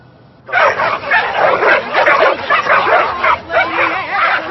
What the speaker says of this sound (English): Hey, Ray, I didn't know you walked your own dog.